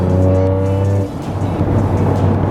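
A Toyota GR Yaris engine revs loudly through an XFORCE catback exhaust with valves open, a deep, droning note, steady then breaking into a rougher, louder roar, close by.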